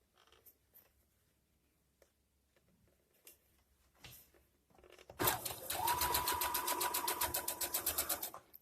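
Sewing machine stitching striped fabric back and forth, a steady rapid mechanical whir with quick needle ticks starting suddenly after quiet rustling and running loudly to the end.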